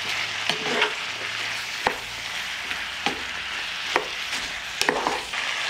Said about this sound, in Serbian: Sve ću sad ovo promešati i nastaviti dalje da prži.